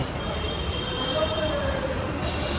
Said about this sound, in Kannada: ಮೆಟ್ರೋ ಬಂದು ಹೋಗೇ ಬಿಡ್ತು